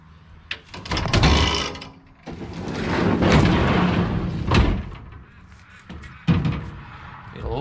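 A fridge slider mounted in a ute canopy is pulled out and pushed back, giving several loud metallic rumbling slides and clunks separated by short pauses, close by.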